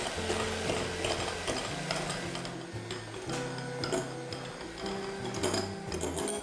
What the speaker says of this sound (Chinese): 打蛋器是先开低速旋转起来，防止材料飞溅，然后开高速持续打发